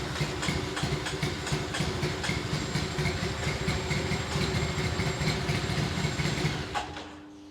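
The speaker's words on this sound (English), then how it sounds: "I just turned the key and the bike fired up without pressing the ignition." A Triumph Bonneville motorcycle engine idles steadily and close after being fired up, a constant throaty rumble that drops away abruptly near the end.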